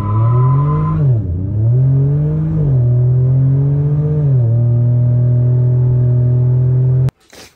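A 2020 GMC Syclone truck accelerates hard from a standstill to sixty, its engine droning loud and close and climbing through several gear changes before cutting off abruptly.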